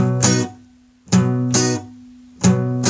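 A guitar barre chord strummed three times, each ringing briefly before being choked off into silence, close and clear.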